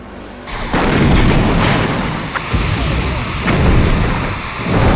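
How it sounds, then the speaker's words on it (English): Quantum torpedoes launching in the space combat game Star Trek: Bridge Commander, a sustained loud booming barrage with repeated heavy bursts and a whooshing sweep, no talk. "let's just go quantum torpedoes again"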